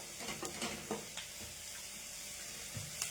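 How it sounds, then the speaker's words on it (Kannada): Onions fry in a pan for a curry, with a soft, continuous sizzle broken by a few light scraping taps from stirring, fairly quiet and close. "ಸೊ ಆನಿಯನ್ ವೇಗ ಇನ್ನೊಂದು ನಿಮಿಷ ಫ್ರೈ ಮಾಡೋಣ."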